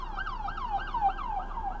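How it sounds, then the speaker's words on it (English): Police cruisers in a Chicago pursuit of a stolen ambulance, sirens wailing in rapid rising-and-falling sweeps, fairly distant and steady over a faint street background. "three police cruisers with lights and sirens going"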